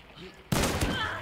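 A single loud, sharp gunshot in the video game Hunt: Showdown cracks out after a quiet moment, followed by a brief echoing tail.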